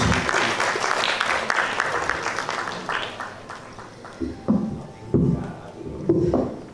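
Audience applause at an awards ceremony, loud clapping that thins out and fades, followed by a few scattered bursts of claps and crowd noise toward the end.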